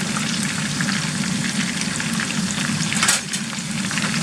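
Battered fish deep frying in hot oil for homemade fish and chips gives a steady, dense crackling sizzle, close and continuous, with a brief louder burst of spatter near the end and no voices.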